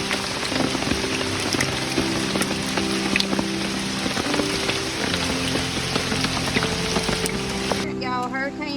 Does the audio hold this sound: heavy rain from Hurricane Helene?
yes